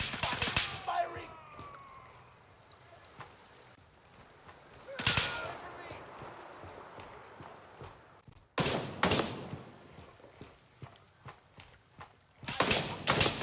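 Video game gunfire in a shooter, several sharp loud bursts of shots separated by quieter stretches, with a voice talking in between.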